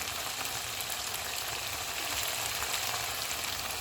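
Mutton sizzling steadily in oil in a karahi, a continuous soft frying hiss with no voices.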